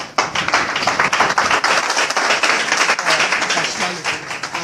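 A church congregation claps and applauds steadily during a worship service, a dense, continuous wash of many hands that stays loud and even from start to finish, with no words spoken over it.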